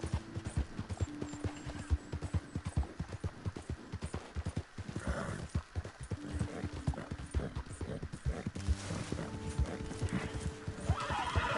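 A horse in a western-style video game trots with a steady clip-clop of hooves, broken by several loud whinnies and neighs, with no talk over it.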